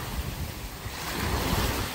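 Sea waves wash onto the beach at Playa de Palma, Can Pastilla, Mallorca, a steady loud surf roar with wind buffeting the microphone and no voices.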